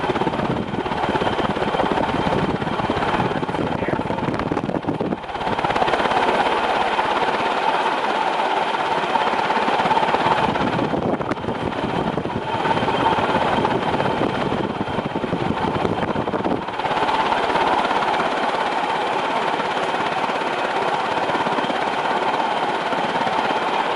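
An HRS industrial ceiling fan runs with a loud, steady broadband whoosh of moving air, holding constant, with brief dips in the rush at intervals.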